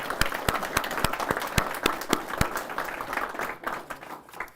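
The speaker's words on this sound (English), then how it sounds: "let's give them a round of applause." An audience at a woodworkers' guild meeting claps for several seconds, with sharp, fairly sparse individual claps that fade slightly toward the end, with no talking over them.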